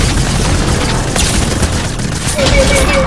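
Dense, continuous gunfire in a Fortnite match, rapid overlapping shots rolling on without a break, with players talking over the shooting.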